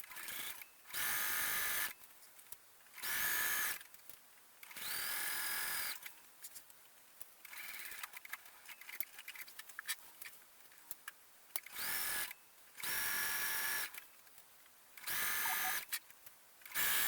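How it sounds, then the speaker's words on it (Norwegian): A sewing machine stitching around the neckline of a top, running in short bursts of high whirring separated by pauses with handling noise, close and fairly quiet. "Nå skal jeg sy rundt halsåpningen"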